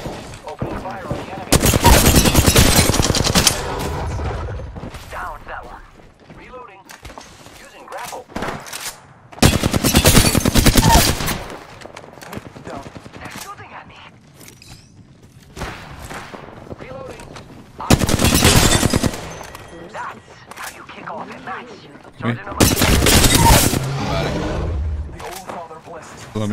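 Gunfire in the video game Apex Legends comes in several loud bursts of rapid automatic shots, separated by quieter stretches of game sound.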